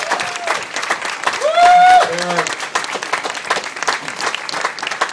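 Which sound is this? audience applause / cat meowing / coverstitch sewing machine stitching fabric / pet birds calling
audience applause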